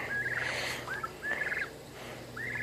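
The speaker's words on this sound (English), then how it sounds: "Look at those white turkeys" White turkeys in a backyard on a farm gobble in repeated short rising calls, several bursts in a row, moderately near over a steady low background hum.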